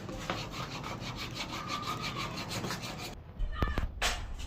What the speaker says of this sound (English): So we're going to sandpaper this inner place.